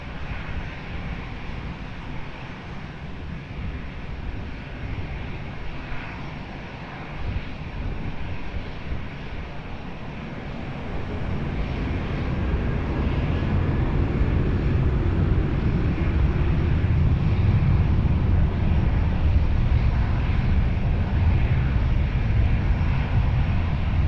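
Airliner taking off from runway 20 at Lisbon Airport, its engine roar building from a moderate hum to a loud, sustained rumble that swells and holds as it accelerates.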